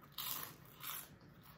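Someone bites into and chews a cheap crunchy packaged snack costing under one euro, two dry crackly crunches close to the mic, quiet, with no talking.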